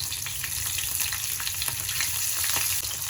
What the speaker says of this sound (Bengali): তেল গরম হয়ে গেছে, এবার এর মধ্যে দিয়ে দেবো কালো জিরে কিছুটা পরিমাণ, আর দেবো কাঁচা লঙ্কা